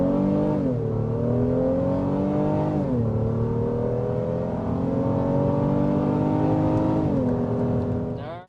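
Inside a moving 2023 Honda Pilot, the engine hums steadily as the SUV crosses a bridge, its pitch climbing and dropping back at each gear change before cutting off abruptly.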